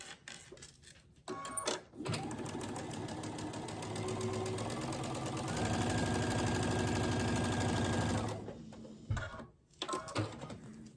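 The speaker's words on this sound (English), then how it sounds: "So I'll sew that down that seam." A sewing machine runs down a quilt seam, starting after a few handling clicks and then holding a steady, close mechanical whir for several seconds before stopping.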